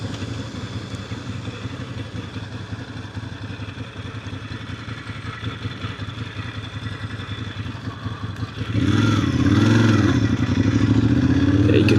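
A Ducati Monster 1100 motorcycle engine at night runs steadily with a rough, throbbing rumble, then revs up sharply near the end into a louder, rising roar as it accelerates.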